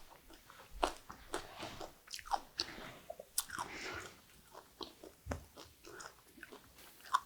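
Crisp, crunchy chewing of Korean perilla leaf pickles in a tuna-sauce marinade, close to the mic, with repeated distinct bites and mouth sounds in an irregular rhythm.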